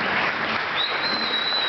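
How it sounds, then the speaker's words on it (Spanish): Steady applause from a live audience at a Spanish-speaking evening event, dense continuous clapping filling the whole moment with a faint high whistle-like tone riding over it. "Un aplauso, por favor."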